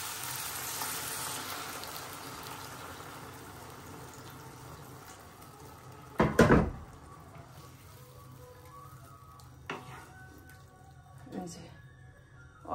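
Broth is poured into a pan of soft, cooked-down vegetable curry, and the mixture sizzles and bubbles steadily. A sharp splashing burst stands out midway, with a few smaller pops later, while a voice talks intermittently.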